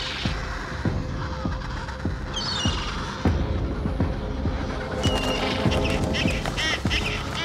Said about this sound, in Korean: 펭귄의 알과 새끼를 노리는 남극 도둑 갈매기입니다.